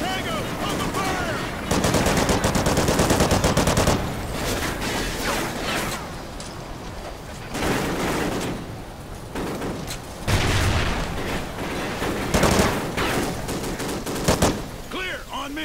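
Bursts of automatic gunfire and rifle shots in Call of Duty: Ghosts, loud rapid volleys in repeated waves with short lulls, and shouting voices mixed in.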